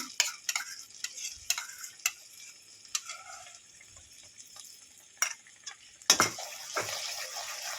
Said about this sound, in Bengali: এটা এভাবে নেড়ে যাবেন নাহলে দইটা ফেটে যাবে